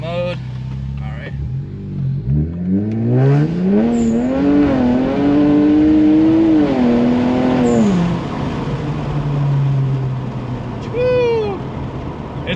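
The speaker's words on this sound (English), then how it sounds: "you could hear the blow-off valve and just the car screaming itself" A modded Infiniti Q50 accelerating hard, its engine note rising through the revs to a loud, close scream, then easing off with a brief blow-off valve chirp near the end.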